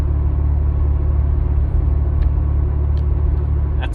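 A 2021 Ford Bronco fitted with an MBRP exhaust cruises at low throttle through a neighborhood, giving a steady deep droning rumble heard from inside the cabin, with a few faint ticks and no talking.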